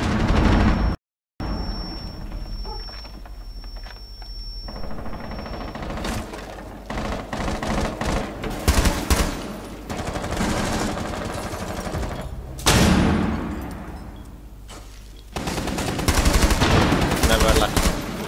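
Gunfire in the video game Rainbow Six Siege during a bomb-site round: repeated loud bursts of rapid shots cluster through the middle, with sharp single cracks and a final rattling volley.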